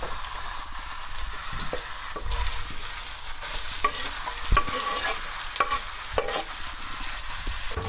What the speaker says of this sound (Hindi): ये तेल डाल दिया हमने, इसके अंदर अभी प्याज डाल देंगे ब्राउन होने के लिए।